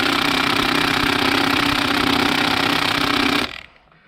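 A Harbor Freight Earthquake XT 3/4-inch impact wrench hammers loudly and continuously up close while trying to loosen a fastener, then cuts off abruptly near the end.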